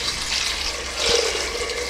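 A steady rush of soaking water poured close up into a cooking pot, a continuous splashing stream that swells briefly midway.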